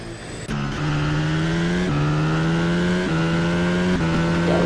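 A racing car in a video game at the Jeddah circuit brakes and downshifts into the final corner, its engine whine falling in pitch with each gear change and then climbing, loud and steady, with nobody talking.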